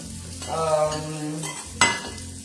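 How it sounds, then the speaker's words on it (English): A quick stir fry sizzles in a hot pan while it is stirred. Scraping and frying noise runs throughout, with a sharp metallic clank near the end. "that's how you make a quick stir fry"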